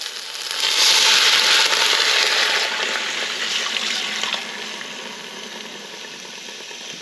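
Two cups of water poured into a cooking pot while making BBQ pulled brisket, a steady broadband splash and trickle that is loudest early, then gradually softens over about seven seconds with no talking.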